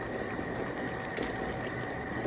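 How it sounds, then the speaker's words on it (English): Vegetables being stirred into pork Thai green curry liquid in a one-pot dish on a boat, a steady close wet bubbling and sloshing with a faint ticking texture and no voices. "Once again, we'll just stir that through,"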